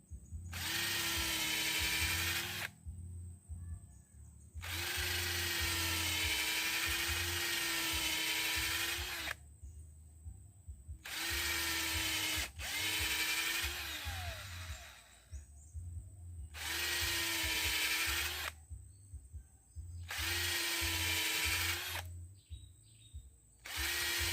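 Power drill boring repeated holes into an agarwood tree trunk for inoculation, loud whining bursts of several seconds each, separated by short pauses as the bit is withdrawn and reinserted.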